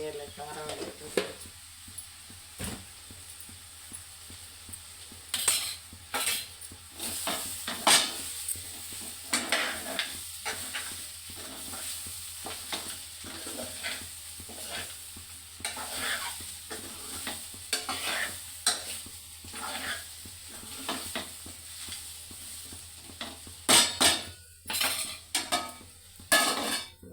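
Chili powder frying in a home cooking pan, a low steady sizzle under repeated spoon stirs and metallic scrapes and clinks against the pan, with a voice speaking quietly at times.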